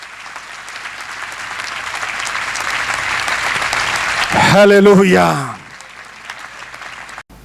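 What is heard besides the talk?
loud applause for Jesus and his church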